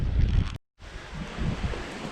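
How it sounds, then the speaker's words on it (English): Blustery wind buffets the microphone on a seaside beach promenade in Palmanova, a steady loud rush with a brief drop-out midway before the gusting roar resumes. "where we're standing it does feel quite blustery"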